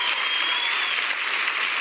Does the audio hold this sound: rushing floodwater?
no